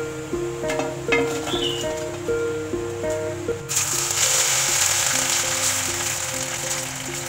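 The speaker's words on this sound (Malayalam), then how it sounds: "ഇതും കൂടെ ഒന്ന് വറുത്ത് പോരാവേ." Soya chunks deep frying in hot oil for a Manchurian starter give a steady sizzle that swells louder and brighter halfway through, under background music.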